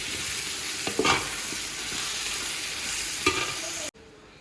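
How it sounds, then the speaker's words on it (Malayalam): Tomato being stirred into a ginger-garlic masala in a pan for prawn biryani: a steady sizzle with a couple of spoon knocks against the pan, close up, cutting off abruptly just before the end. "ഇനി ഇതിലേക്ക് തക്കാളി ഇട്ട് കൊടുക്കാം കേട്ടോ എന്നിട്ട് നന്നായിട്ട് മിക്സ് ചെയ്യാം"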